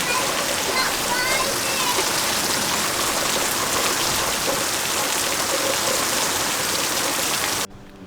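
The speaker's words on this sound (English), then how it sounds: "It's really starting to rain heavy." Heavy rain pours down outside, a dense, loud and unbroken hiss of drops that holds steady throughout before cutting off abruptly near the end.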